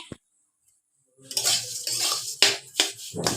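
Vermicelli (semai) is fried in ghee in a pan. After a brief clink and a quiet gap, steady sizzling sets in, broken by sharp metallic scrapes and taps of a utensil against the pan.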